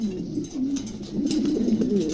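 Low, throaty pigeon cooing rolls on steadily, close by, with a soft murmuring pulse and no pauses.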